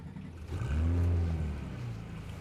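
A Porsche 911 997.1 GT3 engine, already warm, fires up indoors with a rising low rumble that swells into a steady, loud idle, close by with no talking.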